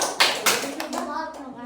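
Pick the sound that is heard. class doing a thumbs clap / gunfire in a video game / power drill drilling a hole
class doing a thumbs clap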